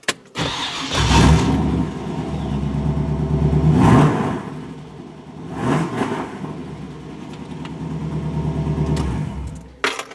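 Warmed-up car engine fitted with a GlowShift digital tachometer, revved hard several times in loud surging bursts that fall back to idle between pulls.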